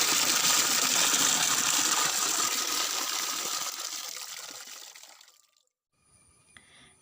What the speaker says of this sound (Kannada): ಚೆನ್ನಾಗಿ ತೊಳಿಬೇಕು ನೀರಲ್ಲಿ.